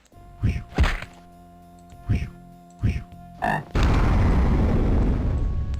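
Several deep, loud frog croaks from the Ravenloft: The Stone Prophet video game sound one at a time at irregular intervals, then a sudden broad wash of noise takes over and continues steadily.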